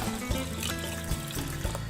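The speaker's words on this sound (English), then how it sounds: "I just need to add 2 cups of water, put it on the rice cooker" Water pours steadily into a rice cooker pot with a continuous splashing trickle, close and moderately loud, with no talk.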